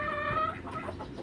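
Hungry domestic ducks squawk and chatter close by as they are fed, a dense run of overlapping clucking calls that eases slightly toward the end.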